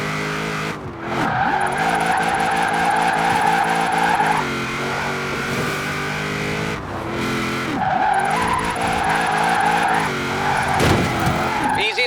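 A car drifts through a snowy winter course in Forza Horizon 4, its engine revving hard while tires squeal and skid in long sustained bursts, loud and close, with a brief voice in the background.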